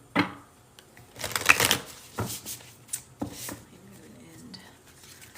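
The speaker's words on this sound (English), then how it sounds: "So let's pull some tarot cards." Tarot cards being shuffled in short riffling bursts, a crisp flurry near the start and a denser run of papery shuffling in the middle, close and fairly quiet, with softer card handling after.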